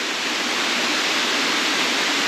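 Rattlesnake Falls, a waterfall in State Game Lands 221, roars steadily and loudly up close, a dense unbroken rush of falling water with no voices.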